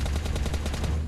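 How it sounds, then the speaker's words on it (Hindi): Rapid automatic gunfire in a PUBG match plays as a loud, steady burst of closely spaced shots, with dense battle noise underneath and no talking. "गोलीबारी हो रही है जापान सीमा टीम की तरफ"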